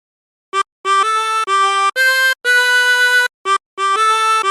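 Happy Birthday to You played alone on a harmonica, a string of clear, close notes of short and held lengths with brief gaps between phrases.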